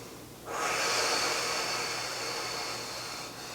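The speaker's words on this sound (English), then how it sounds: "Long, slow exhales." A person lying on a foam roller during a hip stretch lets out a long, slow, breathy exhale, close and fairly loud. It sustains for about three seconds before fading.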